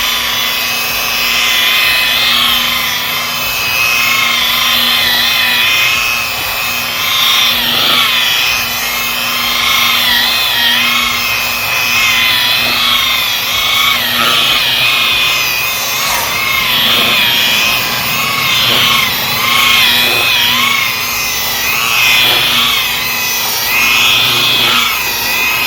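A power buffing wheel polishes a car headlight with Rain-X compound, a loud whirring grind that swells and dips in repeated passes over the lens, running continuously with no talk.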